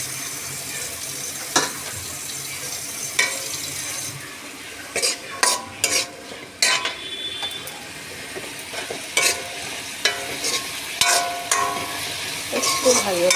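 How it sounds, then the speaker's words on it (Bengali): Food frying in a pan on a home stove with a low sizzle, broken by repeated scraping and clattering stirs that come in irregular bursts, close by. "একটু ভাজা ভাজা মতন হবে"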